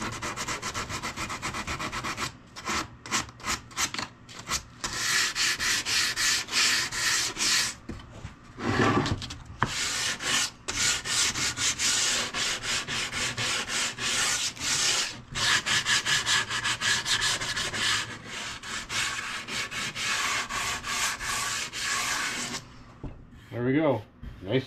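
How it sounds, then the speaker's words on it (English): Steady rasping scrape of sandpaper worked by hand over wooden edges to round them off, in long back-and-forth strokes with brief pauses, close up and fairly loud. "Now we're just gonna take a piece of sandpaper and we'll round off the edges a little bit"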